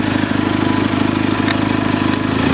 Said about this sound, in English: Gun the engine up there a bit.